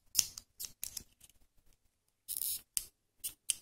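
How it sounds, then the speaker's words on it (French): Small scissors snip through crochet yarn, giving a series of short, crisp cuts in uneven clusters, close and fairly quiet. "Hop, je coupe. Si mon ciseau veut bien couper."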